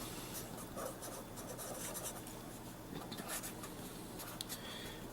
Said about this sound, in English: I will write that one out.